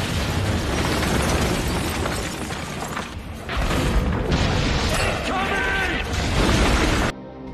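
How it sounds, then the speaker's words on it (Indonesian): Heavy weapons fire and explosions rage through a night attack on a defensive position in a war film, with dense, continuous booms and bursts filling the whole stretch before cutting off abruptly near the end. "Saat malam hari, dengan senjata berat, musuh kembali menggempur lokasi pertahanan mereka."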